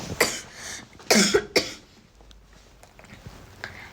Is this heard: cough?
yes